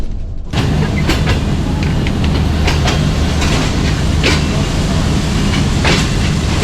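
The Sir Syed Express passenger train rolls steadily along the rails, giving a loud, close, continuous rumble with repeated clicks and clacks from the wheels and no voices.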